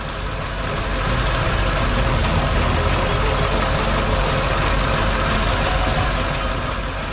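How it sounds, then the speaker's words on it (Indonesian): A red tractor plows soil in a field. Its engine gives a loud, steady, close-up drone that runs the whole time with no breaks and no voices. "Traktor merah sedang menggemburkan tanah dengan plow-nya"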